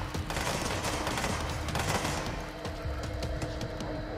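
Rapid gunfire in the video game Control crackles in dense, overlapping bursts of automatic shots, loud and close, easing slightly into spaced single reports toward the end.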